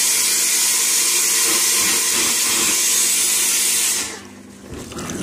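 A homemade vapour blaster built around a dishwasher pump sprays with a loud, steady, broadband hiss for about four seconds, then drops away to a quieter wet rush.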